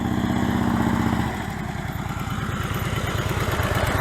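A motorcycle engine runs close by as the rider practises a tight figure-eight at low speed. It starts with a steady idle, then pulses in a quick throttle rhythm as the bike works through the turns, loud and continuous, with no voices.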